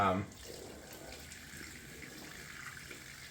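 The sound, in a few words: cold water running from a tap for rinsing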